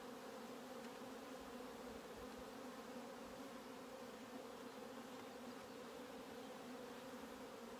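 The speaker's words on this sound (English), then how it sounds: "Lots of bees." Honey bees buzz around a hive frame during a spring nuc split, a dense, continuous drone that holds steady from start to finish with no talking.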